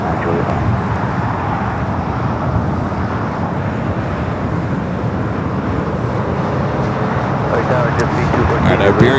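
Airliners taxi and take off at LAX in a continuous, broad roar of jet noise that swells slightly toward the end, with voices speaking over it.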